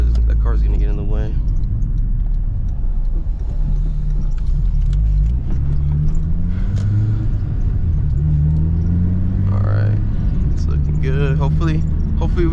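A nitrous-equipped Acura RSX Type S drives along with a constant loud engine drone and rumble from inside the cabin, the pitch rising and shifting as it pulls, while someone talks over it.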